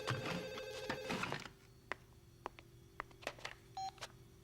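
A cartoon telephone rings in a loud, bright electronic trill for over a second, then gives way to sparse clicks and short beeps close by, with no voices.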